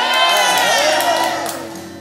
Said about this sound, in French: Vous criez beaucoup plus fort que ça